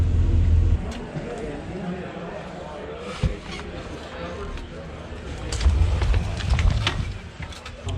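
A car driving along with a low engine rumble and road noise that swells near the start and again toward the end, while a person talks over it.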